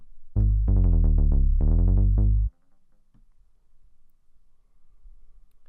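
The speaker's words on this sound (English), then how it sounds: "used a synthesizer to write the bass line and triggered that using MIDI" A deep synth bass triggered by MIDI plays a short riff of repeated plucked notes, loud and clean, then stops abruptly, leaving near silence.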